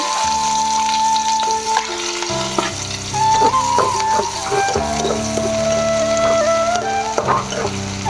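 Mustard seeds, cumin and onion fry in hot oil with a loud continuous sizzle, crackling pops and stirring scrapes, while tonal background music plays.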